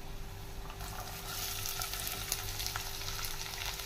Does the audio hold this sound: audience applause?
no